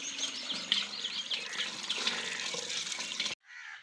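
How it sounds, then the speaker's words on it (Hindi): Water poured into a tubewell pipe at a farm field, a steady splashing, gurgling rush that runs continuously at close range with bird chirps in the background, then cuts off abruptly near the end. "भाई लोग ये पानी डाल रहे हैं हम पाइप के अंदर"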